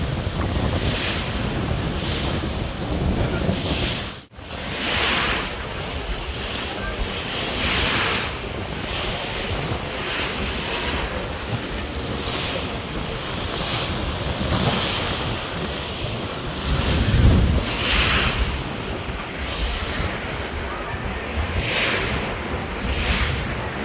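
Sea waves slam steadily against the hull of the Adventure-9 passenger launch under way, a loud continuous wash and rumble of surf with strong wind noise and repeated spray surges, no voices.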